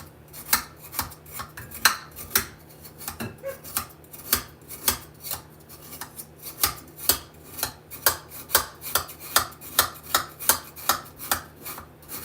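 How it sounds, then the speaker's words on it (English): Frozen butter being scraped with a utensil over ice: steady, rhythmic rasping strokes, close and crisp, repeating about twice per second, with no talking. "we're just going to keep scraping until we get all the butter"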